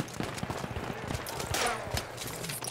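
Gunfire in Battlefield 1 during a team deathmatch at Argonne Forest, with scattered sharp shots and bursts popping at mid distance amid a busy, noisy battle.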